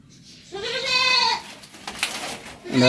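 A pet goat bleats once in a long, wavering call near a kitchen, close and clear, followed by faint rustling and the start of another sound at the end.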